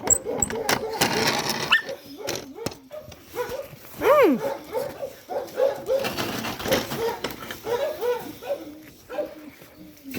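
Dogs bark in short bursts with a high whimpering whine among them, while someone talks over the commotion close by.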